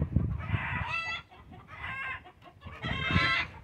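Chickens in a backyard coop clucking and squawking in repeated bursts at moderate distance, with short pauses between calls and no talking over them.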